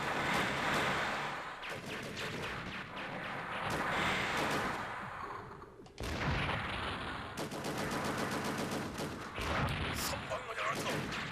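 Blaster shots and missile fire ring out in the Sega Saturn game Mobile Suit Gundam Side Story II, dense rapid bursts of gunfire and explosive blasts in quick runs, with a voice talking over parts of it.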